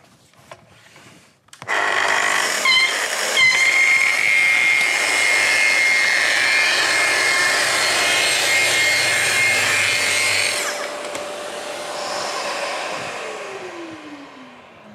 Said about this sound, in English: we turn the machine on, we turn the speed down to 2, and now we can trim the splinter guard